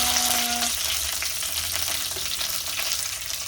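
Five-spice seeds and a bay leaf crackle and sizzle steadily in hot oil in a kadai, a close, continuous fry without talk.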